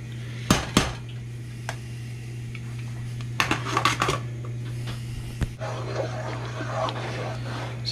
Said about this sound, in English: So you gotta like stir this nonstop.